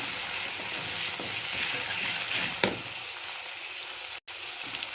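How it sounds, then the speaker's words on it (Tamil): Onion and garlic fry in oil inside a clay pot, a continuous close sizzle with soft stirring scrapes and one louder knock against the pot near the end. "இந்த வெங்காயம் பூண்டு ரொம்ப நேரம் வதங்க வேணாம்"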